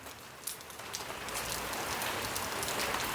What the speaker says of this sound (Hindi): बारिश अलग हो रही है